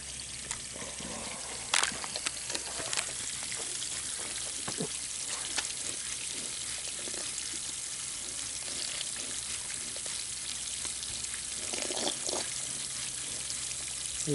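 An animal laps and slurps fresh cold water from a trough outdoors, steady faint wet trickling and splashing against a constant hiss, with occasional louder slurps.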